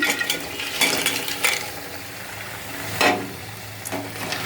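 Crabs fry in masala paste in a pan, a soft, steady sizzle broken by several sharp clinks and scrapes as more pieces go in and get stirred.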